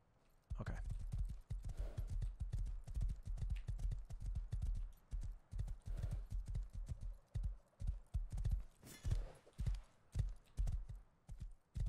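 Rhythmic clip-clop of horse hooves trotting steadily in the video game Rust, loud and close, a continuous run of thudding beats with a faint whinny-like tone in places.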